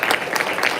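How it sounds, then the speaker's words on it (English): A burst of steady clapping from a crowd for a panel at a tech briefing, dense and continuous throughout. "Let's give our panel another round of applause."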